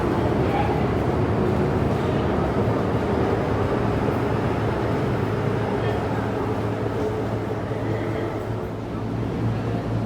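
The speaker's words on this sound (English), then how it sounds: "And another M train." An M train rolls through Quarry Bay station with a continuous rumbling roar of wheels and motors, steady and fairly loud, over general platform ambience.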